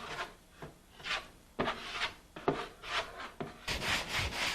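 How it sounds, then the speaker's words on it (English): A putty knife spreads patching compound into cracks in an interior wall. It gives a series of separate, close rubbing and scraping strokes with short pauses between them, and no voices. "fill any cracks, dents, or wall irregularities with patching compound"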